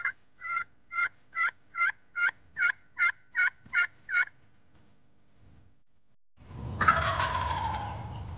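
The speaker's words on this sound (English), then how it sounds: "Opening day, I had a great encounter with a tom that gobbled many times." A wild turkey tom gobbles about ten times in a quick, even series, loud and clear against a quiet Midwest spring background, then stops. A brief rustling noise follows near the end.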